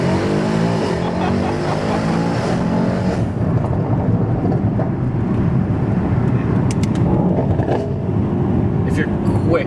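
A sports car launches and pulls hard, its engine roaring loud and close, a rising rev heard early before a dense, sustained throaty blast, with voices over it.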